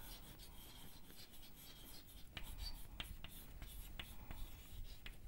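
Pen scratching across paper as an accounting journal entry is written by hand, soft rasping strokes with small taps, close and steady throughout.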